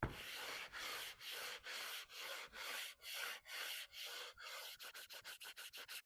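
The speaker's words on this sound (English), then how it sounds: "I'm actually going to finish this off by hand sanding it." Rhythmic hand sanding on wood, a dozen or so even back-and-forth strokes that quicken into shorter, faster rubs toward the end.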